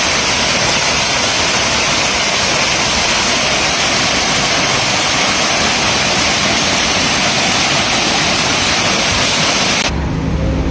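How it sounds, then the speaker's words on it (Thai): A waterfall at a landscaped spot with decorative rocks, trees and a pond roars as a loud, dense, continuous wash of falling water that fills the scene steadily for about ten seconds before cutting off. "อันนี้จะเป็นน้ำตกนะคะ"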